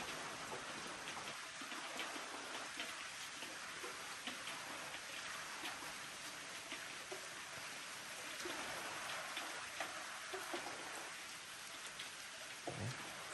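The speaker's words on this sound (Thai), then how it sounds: "ฝนตกหนักมากตอนนี้" Steady, dense rainfall hisses continuously, with scattered drops ticking on nearby surfaces throughout.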